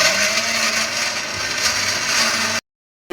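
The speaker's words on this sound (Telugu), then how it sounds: "ఇప్పుడు మనం అల్లం వెల్లుల్లి పేస్ట్ అనేది మిక్సీలో రుబ్బుకోవాలి" A mixer grinder grinding ginger-garlic paste whirs loudly and steadily at high speed for a few seconds, then cuts off abruptly into silence.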